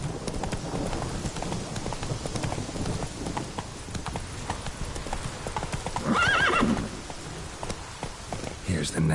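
Hooves of a galloping horse in The Witcher 3 clip-clop in a fast, steady rhythm, with a neigh rising out of the mix partway through over a soft rain-like background.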